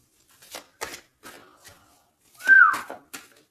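A brief rising whistle rings out amid a handful of sharp, scattered clicks, fairly close and clear against near silence.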